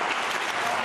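Audience at a Ramadan quiz show in Hindi applauding on cue, a brief, loud, continuous burst of dense clapping.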